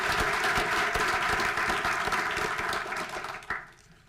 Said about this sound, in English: please join me in a round of applause for our council members